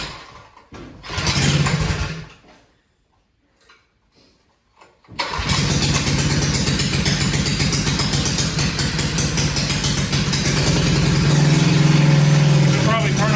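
A 1971 Go Devil mini bike's small engine sputters briefly, falls silent, then catches and runs steadily at a close, buzzing idle that grows a bit rougher near the end.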